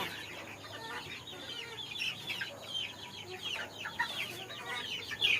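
Chickens cluck and chatter continuously at moderate distance, several birds overlapping in a busy, scratchy farmyard murmur.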